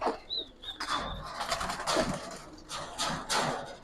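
Pigeons released from a loft in a pigeon farm, wings flapping in fluttery bursts with a few bird calls, close and fairly loud over busy outdoor background.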